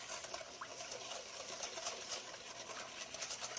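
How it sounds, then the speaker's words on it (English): Cream with granulated sugar and vanilla extract is whisked by hand in a bowl, a steady, rapid, rhythmic swishing and pattering that runs without a break. "And we're going to whisk by hand."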